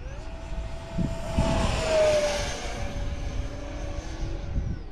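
An FF-117V2 70mm electric ducted fan RC jet at full throttle passes overhead, its whine swelling as it nears and then fading as it flies off, heard from a distance outdoors.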